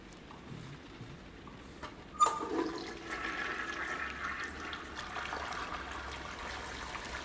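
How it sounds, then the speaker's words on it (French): A toilet in the Heavy Rain video game flushes with a sudden click, then water rushes and trickles steadily, fairly quiet and alone. "On va tirer une chasse d'eau pour rien, là."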